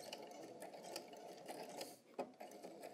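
A sewing machine runs in reverse to backstitch a seam on fabric at the end of a concave curve, giving a steady near mechanical whir with rapid ratcheting clicks and a brief dip before it picks up again.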